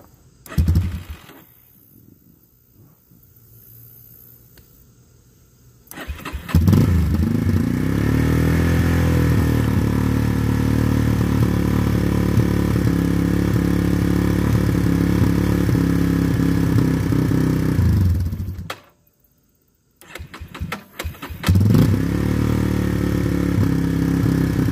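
A Yamaha Warrior ATV on full choke cranks and catches, then idles steadily and loudly, cuts out briefly, and restarts to run on; quiet mechanical clatter precedes the start.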